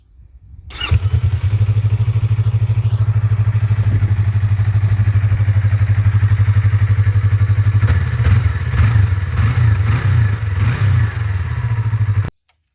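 A Yamaha YZF R25 motorcycle engine idles loud and close with a steady, deep exhaust drone, then gives several quick throttle blips near the end before shutting off abruptly.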